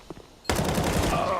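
A sudden loud burst of gunfire in a CS:GO match on the Train map, cracking in after a short quiet lead-in and continuing as a dense, close volley with a faint voice at the start.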